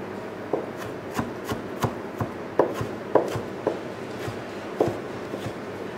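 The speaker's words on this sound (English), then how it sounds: "just with my knife, just slice some thin slices into the salsa" A knife cuts thin slices on a board while preparing red capsicum salsa for fish, with a series of soft, close taps at an irregular, unhurried rhythm over a quiet background.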